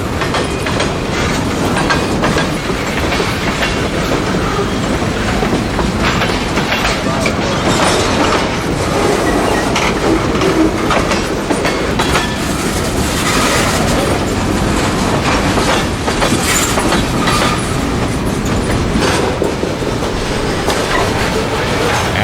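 A freight train dropping cars into a rail yard rolls steadily past at close range on a rainy Sunday morning, with continuous loud rumble and rhythmic wheel clacking on the rails throughout.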